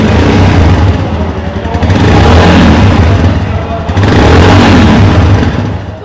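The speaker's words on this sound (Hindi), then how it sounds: "इस टाइप से कुछ आपको एग्जॉस्ट मिलेगा एंड एग्जॉस्ट नोट भी हम सुन लेते हैं।" A Royal Enfield Scram 411 motorcycle's exhaust rumbles loud and close in a low, steady idle that swells twice as the engine is revved. It is heavy, continuous and heard alone.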